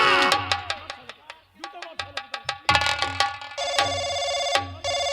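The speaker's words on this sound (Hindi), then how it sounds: "फोन उठा, फोन उठा, तेरे बाप का फोन आ रहा है।" An old-style telephone bell rings in rapid bursts, loud and close, with a brief gap between rings and a voice talking over it.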